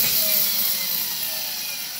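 Brushless electric motor drive in a Raminator monster truck model under light throttle, a steady high-pitched whine with a faint rising tone, continuous and close, no talk.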